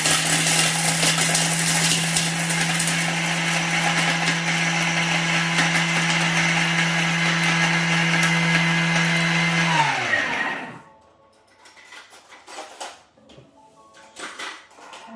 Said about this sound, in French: on va pulvériser, je dirais, notre chocolat en faisant 10 secondes à la vitesse 10